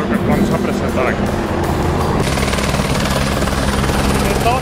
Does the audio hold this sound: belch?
no